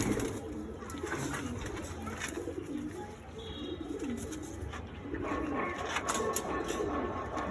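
Madras pigeons coo in a loft in a steady series of low, throaty calls, several birds overlapping at close range amid rustling and faint background noise.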